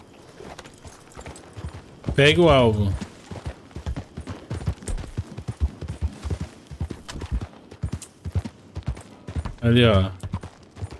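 Horse hooves clip-clop in a steady rhythm in the online mode of the video game Red Dead Redemption 2, with two louder horse whinnies standing out and someone talking over them.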